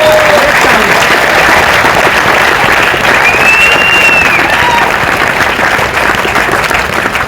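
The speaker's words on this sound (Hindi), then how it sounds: "तो एक बार अपने समझदारी के नाम पे आपको ताली बजानी चाहिए" An audience at a Hindi motivational talk applauds, a thick continuous wash of clapping held at full loudness from start to end, with a stray whistle rising above it.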